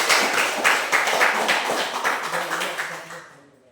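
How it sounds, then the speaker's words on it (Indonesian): A classroom group applauds students of group 2 after their presentation, a dense burst of many hands clapping that thins out and fades over a few seconds. "Kita tepuk tangan dulu buat kelompok 2"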